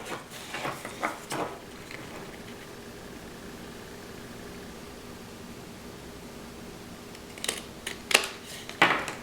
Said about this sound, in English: I'm going to take my scissors and trim it.